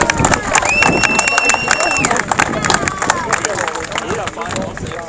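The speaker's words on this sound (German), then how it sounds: "als allererstes gibt es einen donnernden Applaus für Maskottchen" Outdoor crowd applause for a football club mascot at MSV Duisburg's rainy team presentation at the start of preseason training, with sharp claps, scattered cheers and a whistle-like tone over the crowd.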